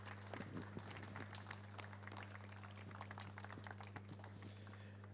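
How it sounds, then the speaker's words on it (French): An audience at the Natexpo 2022 trophy ceremony applauds award winners for an organic yogurt, a moderate, steady patter of many hands heard against a constant low electrical hum. "Vous pouvez les applaudir."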